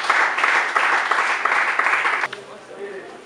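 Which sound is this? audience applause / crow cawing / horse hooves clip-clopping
audience applause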